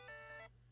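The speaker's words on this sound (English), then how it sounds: "That was my alarm." A phone alarm rings with a bright, steady multi-tone chime for about half a second, then cuts off abruptly, leaving only a low hum.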